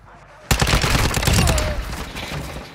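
Gunfire in the video game Call of Duty DMZ erupts suddenly into a dense, loud, sustained barrage that gradually eases, with a voice faintly present.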